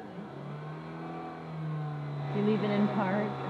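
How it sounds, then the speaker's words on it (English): A parked car's engine idles and then revs up louder near the end, humming close by, with people talking over it. "Revving it to wake them up."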